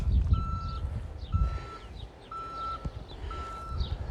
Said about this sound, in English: Sorry about the beeping, got a van reversing.